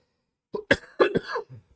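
A few sharp coughs in quick succession, close and fairly loud, with short pauses between them and silence before.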